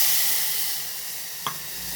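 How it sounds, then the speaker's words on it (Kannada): Tamarind frying in hot oil for palak dal sambar gives a steady bright hiss and sizzle that slowly fades, broken by one small pop near the middle. "ಹುಣಸೆಹಣ್ಣು ಹುಳಿ ಎಲ್ಲ ಎಣ್ಣೆಯಲ್ಲಿ ಫ್ರೈ ಆದರೆ ಚೆನ್ನಾಗಿರುತ್ತೆ"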